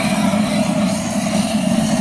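A burner motor roars steadily while charring the inside of an oak barrel, a loud, continuous low rumble with a broad hissing flame noise that stays constant throughout with no speech.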